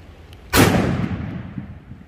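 A single sharp .500 S&W Magnum gunshot firing Black Talon ammunition outdoors in the rain, one loud close blast with a long decaying rumble and no talk.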